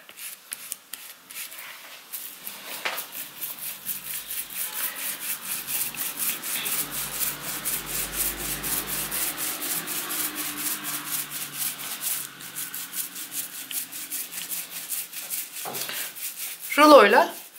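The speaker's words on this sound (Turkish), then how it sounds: "Bastırmadan yavaş yavaş rulomuzu ileri geri yaparak pürüzsüz bir yüzey elde edebiliriz." A paint roller rolls slowly back and forth over a wooden surface during a wood painting and decoupage lesson, a soft continuous rubbing that swells and fades with each pass, close and quiet, ending with a brief louder scrape.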